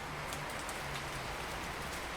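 Steady soft rain patters throughout a scene in the video game 2064: Read Only Memories, a continuous even hiss with faint droplet ticks and no voices.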